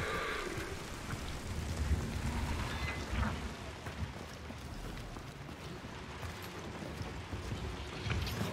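Steady rain in the video game Hunt: Showdown patters and hisses across the whole stretch, a dense broadband wash with occasional low rumbles beneath it.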